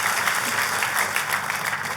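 A church congregation claps together in a dense, continuous wash of applause, moderately loud and steady throughout.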